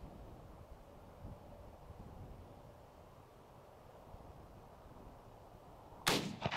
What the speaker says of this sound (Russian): Не, чё-то дернул спуск.